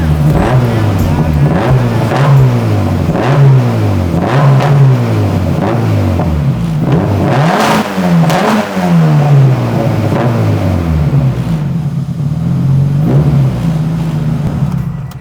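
A 600-horsepower Honda Civic engine with a custom downpipe revs repeatedly, climbing and dropping in a steady series of loud, aggressive pulls up close, ending in a lower idle.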